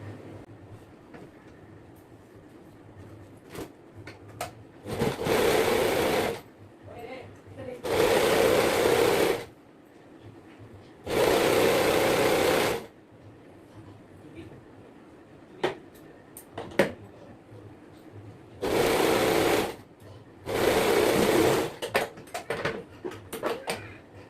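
A sewing machine stitches a folded hem on a nightsuit in five separate loud runs of steady rapid whirring, each a second or two long, with quiet handling clicks and a person talking in the gaps between runs.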